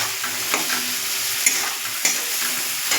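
Masala spice paste frying over a low flame for a Bengali hilsa fish curry with potato and aubergine, a steady close sizzle broken by the scrapes and taps of stirring in the pan.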